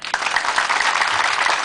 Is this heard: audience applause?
yes